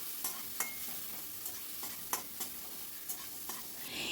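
Chopped onions frying with asafoetida in a pan, a soft continuous sizzle broken by repeated scraping stirs of a spatula, close and fairly quiet with no voices.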